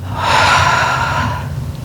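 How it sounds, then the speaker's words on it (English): A deep breath during a Pilates foam roller workout, a single long airy inhale flowing into an exhale, close and fairly loud with no talking. "Nice big inhale and exhale"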